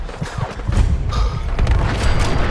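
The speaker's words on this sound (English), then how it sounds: "There was the explosion" Explosion in the video game Fallout 4, a loud low boom followed by rumbling blasts and crackling debris that sustain through the moment.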